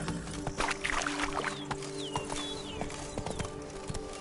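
Horse hooves clip-clopping as a mount is ridden in a PS4 game, a steady rhythmic trot of close, distinct hoof beats over ambient outdoor sound with faint chirps.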